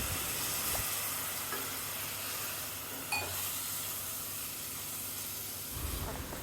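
Mutton pepper masala sizzles and hisses steadily as it sautés in a hot pan, with soft stirring scrapes near the start and end.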